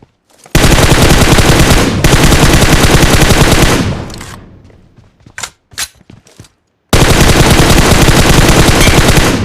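Loud automatic gunfire in the PUBG video game: two long, dense bursts of rapid shots, a tapering lull with a few scattered cracks, then another sustained burst, with no talk.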